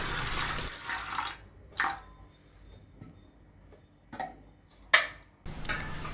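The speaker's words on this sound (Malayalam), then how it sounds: "ഇതിലേക്ക് അത് മുങ്ങത്തക്ക രീതിയിലുള്ള കുറച്ച് വെള്ളം കൂടി നമുക്ക് ഒഴിച്ചു കൊടുക്കാം" Water is poured over fenugreek seeds in a pot, heard as several short splashing pours separated by near-silent pauses, with the sharpest splash near the end.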